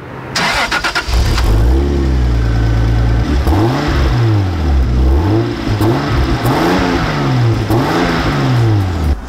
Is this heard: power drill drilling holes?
no